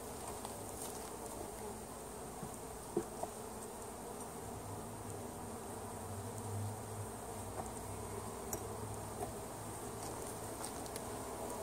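Honeybees from the Ingolf hive hum in a steady, continuous drone during a mid-May hive inspection, fairly soft and close, with a few brief clicks and no talking.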